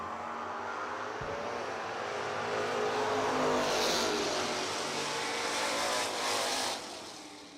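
Drag racing cars at a footbrake challenge, a Mustang and a '69 Dart, roar as engines rev and launch, the sound swelling to a sustained loud rumble before easing off.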